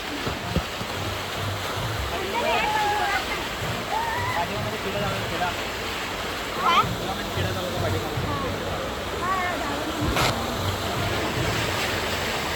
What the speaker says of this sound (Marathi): पाण्याचा आवाज लय जोरात होतो